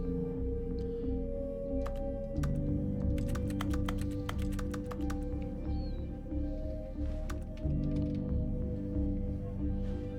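Computer keyboard typing during a video game comes as bursts of quick, light clicks and taps over a steady low game hum, clustering in irregular runs across the stretch.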